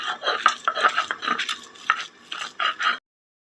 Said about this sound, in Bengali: এখন আমি এটাকে পাটায় ভালো করে বেটে নেব।